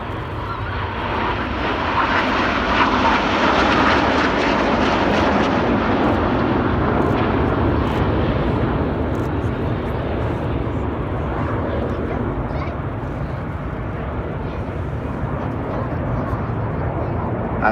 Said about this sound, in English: the jets come towards us with the red and blue smoke on, rolling around the smokes of the other aircraft